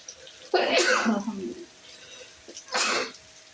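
A burst of coughing or sneezing from someone cooking Hilsa fish with pungent frying fumes, two separate explosive bursts close to the microphone with a quiet kitchen pause between.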